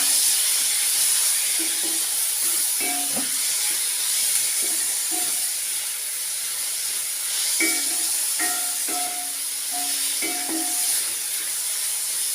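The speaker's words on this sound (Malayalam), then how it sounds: "ഇതിലേക്ക് 2 ടൊമാറ്റോ കട്ട് ചെയ്തത്, ചെറുതായിട്ട് കട്ട് ചെയ്തത് ഇതിലോട്ടിട്ട് കൊടുക്കുകയാണ്" Two small chopped tomatoes sizzling in a hot pan for tomato chutney, a steady loud frying hiss with occasional light clinks and scrapes of a spatula.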